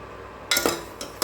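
A spoon scrapes and clinks against a pot while a sugar mixture for kadal pasi is stirred, a few short close metallic strokes after a quiet start.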